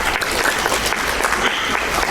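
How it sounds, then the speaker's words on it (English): An audience at the 2024 Park Forest Hall of Fame induction ceremony applauds honored members, a dense, steady burst of clapping filling the hall throughout. "How about a quick round of applause for these people"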